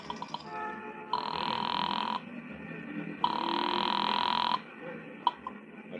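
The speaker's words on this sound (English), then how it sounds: "dropped the nickel in and dialed Republic 2809 again" A telephone in an old-time radio detective drama gives two long, even bursts of ringing tone after a nickel is dropped into a pay phone and a number is dialed. The tones are clear and close, separated by a short pause.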